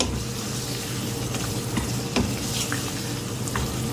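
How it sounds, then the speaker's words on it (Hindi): Spices fry with mashed tomatoes in a pan, a loud dense sizzle running throughout with occasional soft scraping and mashing strokes up close. "भूनेंगे मसालों को। मैश भी करती जाऊंगी टमाटरों को इस तरह से।"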